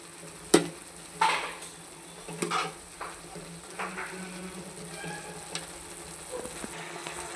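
Yippee noodles cooking in a pot: a soft steady sizzle broken by a few sharp clanks and scrapes of stirring, loudest early and then settling into quieter bubbling.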